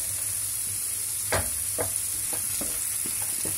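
Vegetables fry in a pan for a home-cooked gnocchi and shrimp dinner, with a steady high sizzle and a few soft scraping stirs at intervals.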